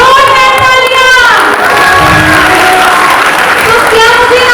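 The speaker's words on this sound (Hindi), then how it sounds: "जोरदार तालियां" A large audience applauds and cheers together, with children shouting among the crowd, a loud continuous roar of claps and voices that swells and sustains throughout.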